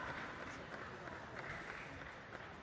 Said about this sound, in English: no wonder they're applauding